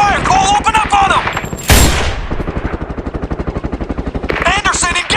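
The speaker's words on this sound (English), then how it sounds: "We're taking fire, Cole, open up on them!" Rapid gunfire in the video game Sniper Ghost Warrior 2 during a breaching assault, a loud sustained machine-gun rattle with a sharp blast near the start, while voices shout over the shooting.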